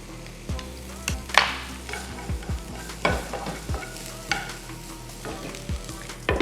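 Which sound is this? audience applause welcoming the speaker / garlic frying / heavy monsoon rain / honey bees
garlic frying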